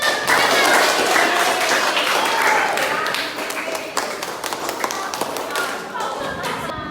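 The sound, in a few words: children clapping hands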